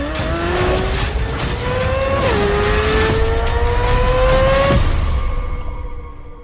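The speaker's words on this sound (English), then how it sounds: "It was the first time that GM had built a flat plane crank, high revving engine" A Corvette Z06's flat-plane-crank, high-revving naturally aspirated V8 screams loud and close, its pitch climbing steadily through the gears with a brief dip at a shift before easing off at the end.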